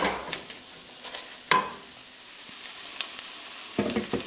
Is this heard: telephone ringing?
no